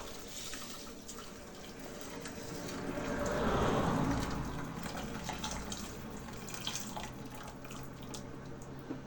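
Boiled, pre-measured water poured into a pot while cooking rice from scratch, a steady liquid splash and trickle that swells in the middle and then settles into a softer, continuous flow, heard alone with no talking.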